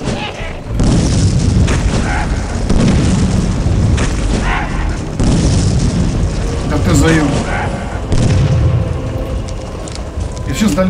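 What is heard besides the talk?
explosions in a video game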